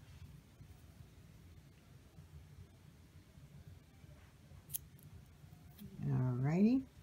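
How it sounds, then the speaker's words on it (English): A few quick scissor snips through yarn close by near the end, following a quiet stretch of faint rustling. "I need to snip my yarn."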